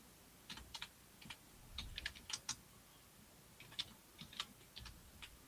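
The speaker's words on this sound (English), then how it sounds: "What you typing now? What you typing?" Someone types on a computer keyboard, irregular bursts of light clicky keystrokes with short pauses between them, fairly faint and close, with no voices.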